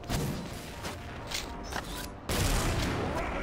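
Rapid gunfire in the XSHOT shooter game, dense overlapping shots rattling continuously for a few seconds, then a louder burst after a brief break.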